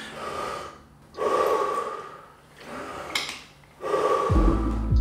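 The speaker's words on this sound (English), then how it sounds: "I like to start my day off with some breathing exercises to get my body and mind awake." Morning breathing exercises: three long, forceful breaths drawn in and pushed out in slow rhythm, close to the microphone and loud, with a low rumble of handling noise at the end and no talking.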